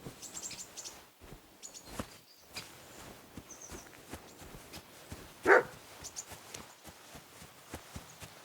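In Kingdom Come: Deliverance II, a dog gives a single sharp bark from mid-distance amid faint footsteps and chirping birds in an otherwise quiet outdoor scene.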